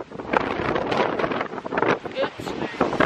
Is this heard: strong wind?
yes